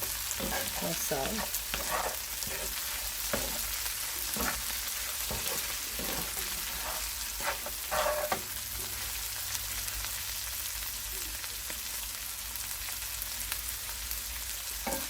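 Fried okra with shrimps stirred in a pan: continuous close sizzling with repeated scraping and clacking of the spoon, then a single brief spoken word.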